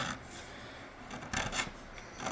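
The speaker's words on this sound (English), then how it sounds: "fret dressing process, removing these sharp little burrs, shaping the ends of the frets so they won't be sharp and uncomfortable to play" A file rasps across the fret ends of a bass guitar neck to remove sharp burrs, close, dry scraping strokes in a quick back-and-forth rhythm, with short louder bursts on each pass.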